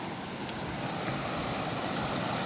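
A steady, dense rush of falling water fills the air, continuous and unbroken like a nearby waterfall.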